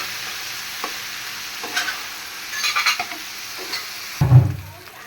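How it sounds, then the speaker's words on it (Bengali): Onion and potato fry together in oil left over from frying pangas fish, giving a steady sizzle broken by scattered stirring scrapes and taps, then a louder clatter and hiss near the end. "মাছ ভাজার যে তেল ছিল তার মধ্যে আমি পেঁয়াজ আর আলু একসাথে ভেজে নিতেছি"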